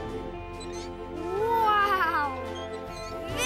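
A cartoon cat stuck in a tree meows in a long, rising and falling wail after a brief exclaimed word, loud and close.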